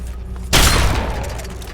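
Turret gunfire in Fallout 3 erupts suddenly after a quiet start, a loud, dense burst of shots that rolls on with a sustained roar and decaying rumble to the end, with no talk over it.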